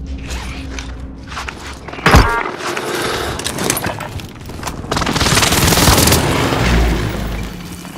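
Heavy explosions from an airstrike in the video game Call of Duty: Modern Warfare: a sharp boom near two seconds, then a dense, loud rumbling barrage of blasts and crackling debris from about five to seven seconds, with mechanical creaks in between.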